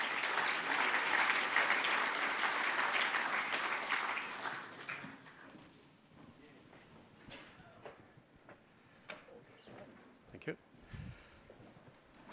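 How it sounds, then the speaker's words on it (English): Audience applauding at a cybersecurity conference, a dense, loud clatter of clapping for about five seconds that then thins into scattered claps and tapers off to quiet room noise. "Please give Leon Fouche a big round of applause"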